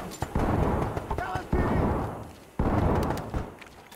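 A grenade explodes in the tactical shooter Ready or Not: sharp broadband blasts land in quick succession, loud and close, each trailing a rumbling decay, with voices in the background.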